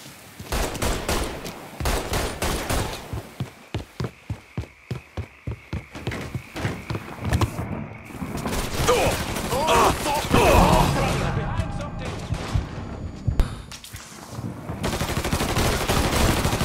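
Rapid rhythmic bursts of automatic gunfire in the Mafia video game, loud and close, with shouting voices over chaotic shooting throughout.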